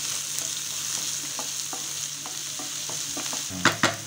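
Onions sauté in a pan with a steady sizzle and intermittent scraping stirs, growing louder with a few sharp clatters near the end; no one speaks.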